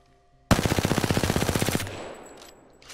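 A heavy weapon in Apex Legends opens fire in one loud, close automatic burst of about twenty rapid shots lasting over a second, then a fading echoing tail.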